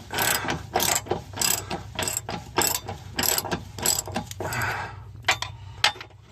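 A ratchet tightens hitch bar bolts on a Jeep Grand Cherokee: rapid, close metallic pawl clicking in repeated bursts with short pauses between strokes, no talking.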